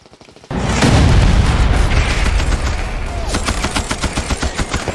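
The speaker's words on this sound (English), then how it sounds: "force the men to climb on hands and knees while under small arms and machine gun fire" Dense small arms and machine gun fire from a Vietnam War battle for a hill in 1969, erupting after a brief quiet into loud, sustained overlapping shots and rapid bursts, with sharp repeated cracks continuing toward the end.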